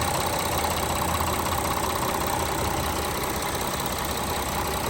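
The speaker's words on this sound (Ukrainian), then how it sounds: "А двигун, як працює двигун" A 2018 Volkswagen Amarok pickup's V6 engine idles close by, a continuous even rumble with a faint knocking texture and no change in pace.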